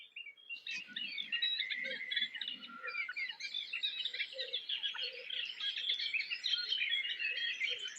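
Birds sing without a break at a birdwatching spot in the French countryside. Several chirping and trilling voices overlap across eight seconds, fairly close, with faint low background noise and no talking.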